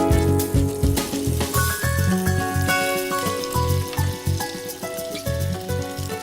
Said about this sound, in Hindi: तो दोस्तों तेल गरम हो चुका है, अब टिक्की फ्राई करना शुरू करते हैं